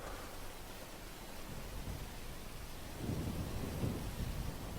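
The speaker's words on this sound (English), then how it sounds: "it will start raining before the eclipse begins for sure" Rain and thunder from the weather in the video game GTA 5: a steady, dense hiss of rainfall with a low thunder rumble that swells toward the end, with no voices.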